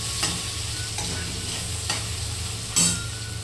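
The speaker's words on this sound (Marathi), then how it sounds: "आता टोमॅटो छान लाल होऊ द्यायचा, मस्त मऊसूत द्यायचं त्याला." Tomatoes fry in a pan for a cauliflower curry, giving a constant close sizzle broken by a few sharp scrapes of a spoon stirring against the metal.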